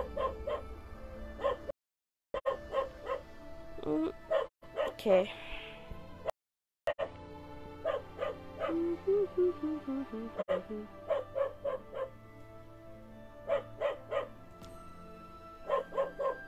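A dog barks and yips in quick repeated bursts in the background of a live game stream, mixed with game sounds and a person talking now and then.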